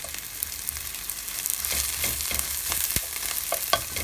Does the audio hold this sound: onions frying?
yes